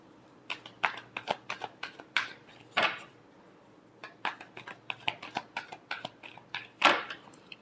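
Tarot cards are shuffled by hand in quick bursts of crisp riffling and flicking, with short pauses between flurries and a final louder riffle, close and clear with no talking.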